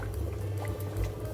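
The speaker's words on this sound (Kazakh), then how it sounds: "Мінекей, бізде жақсылап қайнап жатыр." Jars of stuffed peppers boil in a pot of water, a steady low bubbling and rumbling that stays continuous and fairly quiet.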